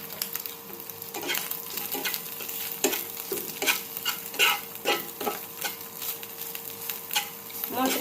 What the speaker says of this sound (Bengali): মচমচে করে ভেজে নিতে হবে।